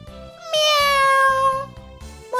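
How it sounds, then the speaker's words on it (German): A house cat close by lets out one long, drawn-out meow that rises and falls, followed by a short second meow at the end. "Kümmer du dich mal um die Katze, sie sitzt die ganze Zeit vor deiner Schmucktruhe und mauzt"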